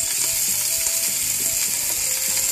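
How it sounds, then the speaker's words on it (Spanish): Onion and leek frying in a pan for minestrone soup, giving a steady, close crackling sizzle with small clicky pops throughout, no voices over it. "Y ahora ya sí voy a echar todas las hortalizas."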